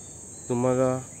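Insects in a forest near the sea, likely cicadas or crickets, give a single loud harmonic buzzing call of about half a second over a steady high-pitched background drone.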